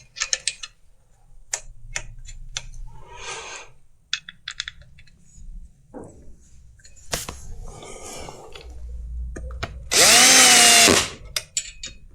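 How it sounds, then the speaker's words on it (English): A power drill whirs in one short, loud burst near the end, after scattered clicks and taps from handling tools, while reinstalling a Carberry anti-vibration plate and bearing. "I've got the drill on the last setting"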